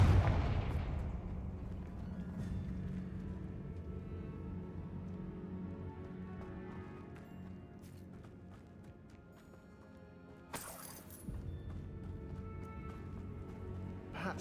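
Confringo fire spell blasts in the video game Hogwarts Legacy, heard as a loud burst at the start followed by a lingering rumbling tail and another sharp crack near the end over a steady game backdrop.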